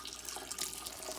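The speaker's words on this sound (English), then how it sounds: "So now I'm sparging my water, 170 degree water, into my" Hot sparge water at 170 degrees pours steadily onto grain in a brew pot during home brewing, a faint continuous splashing and trickling with no talk.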